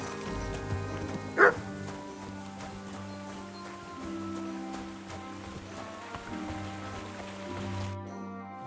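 In Kingdom Come: Deliverance II, a dog gives a single short bark near the start. The bark sits over quiet background music and ambience.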